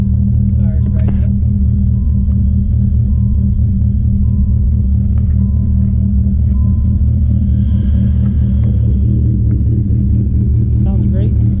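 A 1997 Dodge Viper GTS V10 idles with a deep, steady rumble, loud and close, with a lumpy low throb throughout and faint voices in the background.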